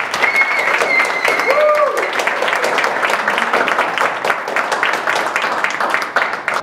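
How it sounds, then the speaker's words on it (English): A crowd applauds at a team event, sustained clapping from many hands with a few whoops or tones early on, fairly loud and continuous before fading slightly at the end. "let's give a big round of applause for"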